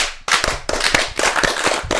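A single person claps in a house, giving a series of sharp, close, loud hand claps in an uneven rhythm, about seven or eight strikes in quick succession with no talking over them.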